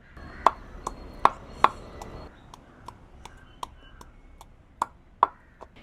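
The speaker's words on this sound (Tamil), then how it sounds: "இறைச்சி கறிக்கு தேவையான உள்ளியும் இஞ்சியும் இடித்து எடுத்துக்கொள்ளுவோம்" Garlic and ginger are pounded for a meat curry. Sharp, distinct strikes come close together at first, then thin into softer, sparser knocks, each one separate against quiet.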